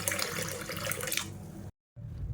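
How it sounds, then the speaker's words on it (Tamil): Tap water runs steadily as soaked urad dal and lentils are rinsed in a sink. The splashing stops sharply for a moment, then starts again. "இப்போ இதே நாலஞ்சு தடவை அலசிட்டு வந்துட்டு பார்க்கலாம்"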